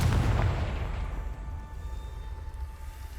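Confringo blasting spell exploding in Hogwarts Legacy, a heavy boom at the start that rolls into a long low rumble and fading fiery roar, loud and close, with no talking.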